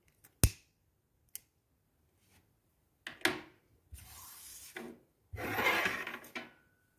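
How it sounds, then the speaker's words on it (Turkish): Scissors snipping thread while making tasseled needle lace, a few sharp isolated clicks and cuts followed by longer rubbing, rasping handling sounds, close and fairly quiet with pauses between. "Makasla kesin."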